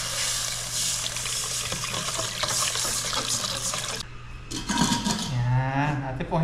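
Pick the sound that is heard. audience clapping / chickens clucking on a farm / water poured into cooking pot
water poured into cooking pot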